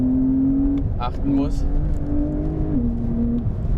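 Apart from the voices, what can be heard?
Porsche 911 Carrera 992 engine sound while driving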